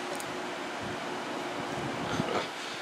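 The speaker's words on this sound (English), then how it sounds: "The wind's blowing it around." Wind blows outdoors across the microphone, a steady broadband rushing roar with a slight gust swelling near the end.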